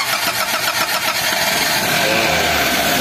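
Chery Tiggo 2.0 with a cylinder head gasket problem starting on a cold morning with the throttle pressed: a churning crank that catches into a loud, steady, close engine roar with no talking.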